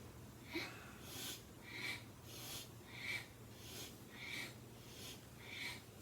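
Sniffing breaths drawn in and out through the nose during a yoga twist practice, six rhythmic airy pulls about a second apart, close and fairly soft against a faint low hum.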